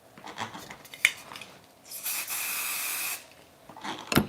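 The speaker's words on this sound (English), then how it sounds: "I'm gonna put it up and use my hairspray" Hairspray from a can is sprayed onto curled hair in one steady hiss lasting about a second, framed by soft rustling and handling noises before and after.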